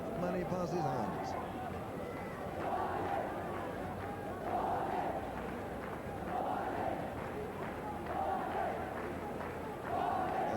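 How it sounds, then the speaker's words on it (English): A large cricket crowd at a 1994 Austral-Asia Cup semi-final between Pakistan and New Zealand chants in steady rhythmic waves that swell every couple of seconds, heard at a distance beneath a commentator's voice. "As you can hear, the crowd in tremendous form"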